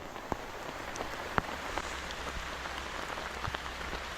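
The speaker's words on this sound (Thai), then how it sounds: "ตอนนี้ฝนได้ตกโปรยปลายลงมาเนี่ยนะครับ" Rain falls steadily on a tarp shelter at a forest camp, a soft continuous patter with a few sharper drops landing close by and no talking.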